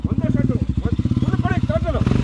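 A Bajaj Pulsar 220F motorcycle labours up a steep offroad slope, its engine chugging in rapid, even pulses, loud and close. Voices talk over the engine throughout.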